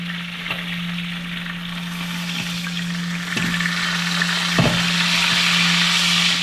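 Steady crackling sizzle of fish frying in hot oil, continuous and close, with a low electrical hum underneath and a couple of brief clatters.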